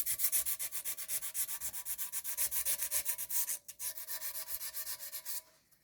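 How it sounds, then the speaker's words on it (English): Sandpaper rubbed back and forth along the edge of a broken porcelain piece to prepare it for gluing, giving a steady rhythm of close, scratchy strokes. A short pause comes near the end before the sanding stops. "You just want to just take a small amount and sand along."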